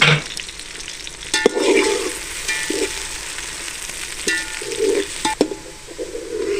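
Onions fry in oil with cinnamon, cardamom, cloves and dried lime for Arabic fish majboos, giving a steady close sizzle broken by intermittent stirring scrapes and clinks of a utensil against the pan.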